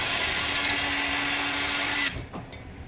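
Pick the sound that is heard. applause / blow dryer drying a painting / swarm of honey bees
blow dryer drying a painting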